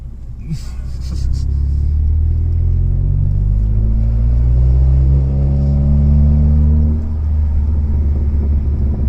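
A stage 2 Seat Leon Cupra with a 400-horsepower turbo engine accelerates hard and close, its deep rumbling note climbing steadily through the revs for several seconds after a brief clatter at the start.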